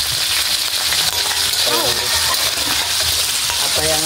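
Pork liver sizzling in a pan for menudo, a steady loud frying hiss filling the whole stretch, with occasional light stirring clinks and a brief voice in the background.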